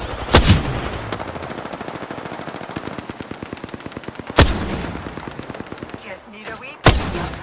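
Gunfire in the video game Apex Legends, with a rapid automatic burst running for several seconds, punctuated by three loud sharp single shots, close and dominant.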